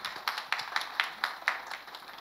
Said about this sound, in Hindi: इनके लिए एक बार जोरदार तालियां हो जाए.